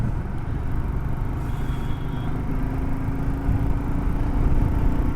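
A motorbike cruises at about 100 on a village ride, giving a steady loud low engine drone mixed with wind rush that holds constant throughout, with no talk audible.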